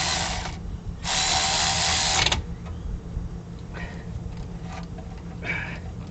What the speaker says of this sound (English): we're going to tighten up those bolts,